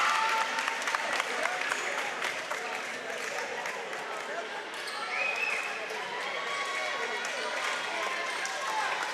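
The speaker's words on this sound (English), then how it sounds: "he gets some applause from the fans over the way" Fans applauding in a high school boys basketball gym, moderate crowd clapping and murmur at a distance, with sneaker squeaks and a commentator talking over it throughout.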